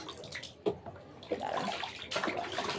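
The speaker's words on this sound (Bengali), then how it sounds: "আমার ছেলে কীভাবে গোসল করতে আসলে সুন্দর খেলা খেলো করে দেখছেন পানির আওয়াজ" A child splashing and playing in bath water, with irregular close sloshes and slaps of water coming in uneven bursts, with no talking.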